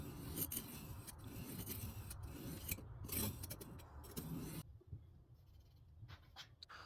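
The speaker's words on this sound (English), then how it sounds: "We're going to just go back and forth on each stone." A knife blade is pushed back and forth across a sharpening whetstone. Close, steady gritty rasping strokes run for several seconds, then fade to a few faint, light scrapes.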